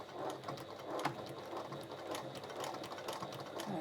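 A sewing machine stitches a short one-centimetre seam on a fabric bag, running as a steady, rapid mechanical whir of needle strokes for the whole stretch, close and alone with no voices.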